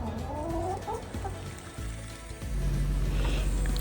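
Chickens in a coop cluck and murmur close by in short, irregular calls, with a pouring, trickling sound of food or water rising toward the end.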